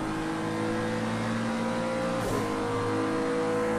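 A 2017 Acura NSX races in Project Cars 2, its engine droning loudly and steadily at high revs, with a brief whoosh of a pass partway through and no talk.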